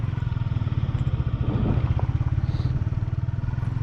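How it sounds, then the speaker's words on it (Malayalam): A motorcycle engine runs close by on an off-road route to Ladakh, with a steady low throb and rapid rhythmic pulsing, swelling slightly midway as it moves past. "അപ്പം നമുക്കൊരു ബൈക്ക് ഇറങ്ങി കിട്ടിയിട്ടുണ്ട്. West Bengal registration bike."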